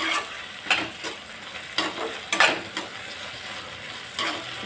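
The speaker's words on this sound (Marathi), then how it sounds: "आता गॅसची फ्लेम जी आहे ती थोडीशी फुल करायची आणि ह्याला पटापट परतवून घ्यायचं, खाली चिटकू द्यायचं नाही." Soybean chili stir-fried over a high flame, a steady sizzle broken by several quick spatula scrapes against the pan, close and moderately loud with no talking.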